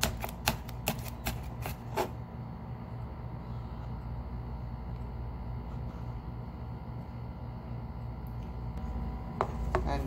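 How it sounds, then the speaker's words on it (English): A knife chops green chilies and ginger on a board, with a quick run of crisp, close taps at the start and a few more near the end over a steady low background hum. "We are cutting green chilies and chopped ginger."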